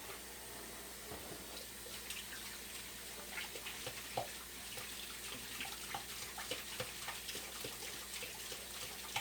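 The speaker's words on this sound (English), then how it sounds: "go ahead and wash our hands real quick" Tap water runs steadily into a kitchen sink while hands are washed, a continuous splashing hiss with small irregular spatters, fairly close and alone.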